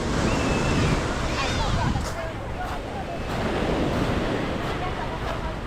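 Surf rolling onto Miami Beach at Batu Ferringhi, Penang, Malaysia, a steady broad wash of waves mixed with wind buffeting the microphone, with faint distant voices underneath.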